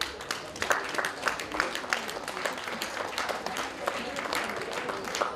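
An audience applauds honoured local workers at a district ceremony, with a steady stream of many hands clapping at moderate distance, fairly even in level throughout.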